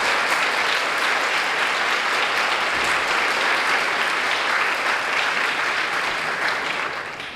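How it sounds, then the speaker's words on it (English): A large audience at a county Teacher of the Year ceremony claps steadily for Rising Star teacher finalists, a dense, sustained round of applause that holds evenly for about seven seconds before tapering off at the end. "Let's give them a big round of applause."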